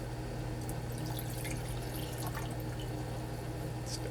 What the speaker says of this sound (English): we're going to pour our ferrous chloride into it.